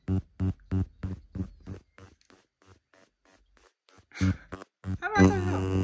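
An electric facial cleansing and lifting device with ion settings gives a run of evenly spaced buzzing pulses, then settles into a continuous close vibration at the end.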